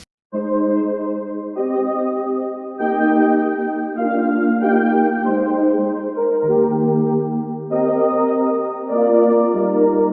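A bright, pitched synth plays a chopped vocal-like melody, with sustained, harmonically rich notes stepping between pitches. Steady and fairly loud, no speech.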